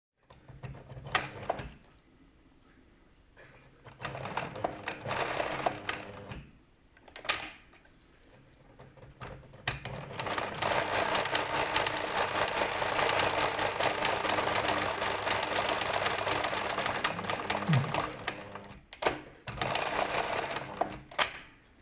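A sewing machine stitches a buttonhole with a buttonhole presser foot, starting in short stop-and-go bursts, then running in a long steady rapid whir of stitching, close and fairly loud, with no talk.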